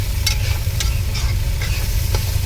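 Beetroot stirred and sizzling in a frying pan, a continuous close hiss with several quick scraping strokes of the spoon through the vegetables, no voices.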